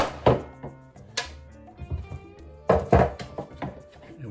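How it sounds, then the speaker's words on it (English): Cut spaghetti squash halves are set face down on a baking pan in a kitchen, making a few close, hollow thunks and knocks spread across a few quiet seconds. "Then all it says is we put it on a pan."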